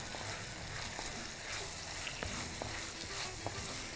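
Prawns fry with onion and green chili in a pan, giving a steady hiss and sizzle with faint scraping and clinks from stirring throughout.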